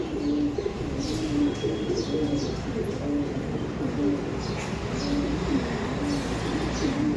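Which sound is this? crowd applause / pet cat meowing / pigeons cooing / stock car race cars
pigeons cooing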